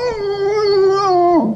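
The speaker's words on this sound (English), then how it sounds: "Oh, look, a dog." A dog howls in one long, loud, wavering whine that slides down into a brief whimper at the end, heard alone and up close at a lakeside boat campsite on Beausoleil Island in Georgian Bay.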